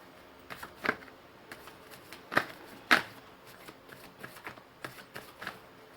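A deck of tarot cards is shuffled close by, with a series of crisp, irregular riffling snaps and soft slaps, some sharper bursts standing out against a quiet room.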